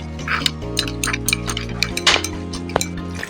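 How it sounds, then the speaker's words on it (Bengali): A spoon whisks yogurt in a bowl, making light, quick clinks and scraping taps over a steady tonal hum, with no speech. "দইটাকে এইভাবে আমি ভালো করে ফাটিয়ে নিচ্ছি"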